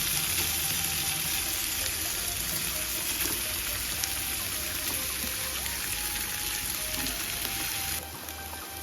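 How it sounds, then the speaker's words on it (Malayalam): Sausage sizzles and fries steadily in a hot pan, a dense continuous crackle that holds even and close throughout, with no voices. "ഇത് ഫ്രൈ ചെയ്യാൻ പോകുന്നു"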